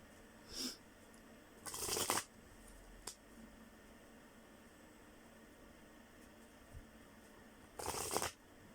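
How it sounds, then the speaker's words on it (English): Playing cards being shuffled in three short, crisp bursts, one brief and two longer riffles, separated by quiet pauses with a faint tap in between. "Nice to get back to shuffling again."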